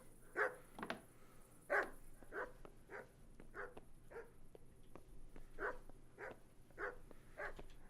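Dog barking in the medieval video game Kingdom Come Deliverance: a series of about ten sharp barks at an uneven pace, fairly close, over a quiet low ambient hum with a faint steady whine.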